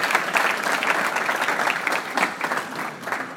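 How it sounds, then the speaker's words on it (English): At a Thanksgiving dinner and awards ceremony, an audience applauds for a standing honoree, a full, continuous crowd clapping that stays steady and lively for several seconds. "Let's give him a round of applause."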